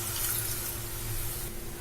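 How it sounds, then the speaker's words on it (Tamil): About three quarters of a cup of water pours into a kadai (wok) in a steady, close splashing rush that lasts the whole short moment, with no one speaking. "இதை வந்து நம்ம இந்த கடாயில ஊத்திக்கலாம்."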